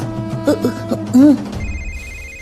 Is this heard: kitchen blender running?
no